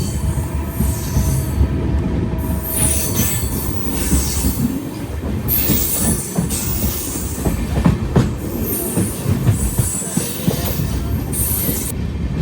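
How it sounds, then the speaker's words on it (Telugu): An Amrit Bharat Express train departing Sullurupeta station in India rolls along the rails with rumbling wheels, rhythmic clacking and intermittent high metallic squeals, loud and close throughout. "సుల్లూరుపేట నుంచి బయలుదేరింది బండి"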